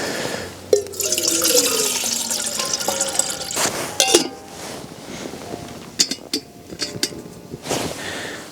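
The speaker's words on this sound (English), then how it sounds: "So that's the water on for the coffee" Water pours and splashes into a pot on a camping stove in Durris Woods, with a rising filling tone, then drips and clinks against metal, close up and fairly loud.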